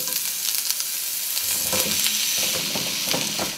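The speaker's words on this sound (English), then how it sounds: "We'll let these shallots cook in here for a little while" Shallots sautéing low and slow in a skillet, a constant close sizzle with soft stirring scrapes and pan knocks joining partway through, no voices.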